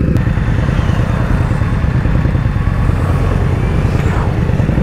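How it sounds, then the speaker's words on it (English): Ducati motorcycles riding past in a group at a motorcycle meet, a loud, continuous close engine roar and rumble that fills the whole stretch without letting up. "the Ducatis are riding by themselves"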